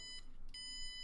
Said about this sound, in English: test that this buzzer actually works